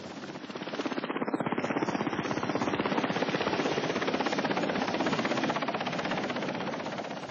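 A Vietnam War evacuation helicopter flies close by, its rotor blades chopping in a rapid, loud, regular thudding beat that swells and then slowly eases, with no talking.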